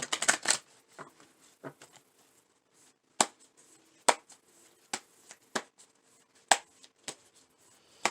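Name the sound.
shuffling tarot cards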